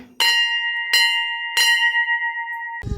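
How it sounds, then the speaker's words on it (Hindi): A metal temple bell in Uttarakhand is struck three times at a steady pace, each clear ring lingering before the next, close by and loud. "चलते चलते घंटी बजाते हैं।"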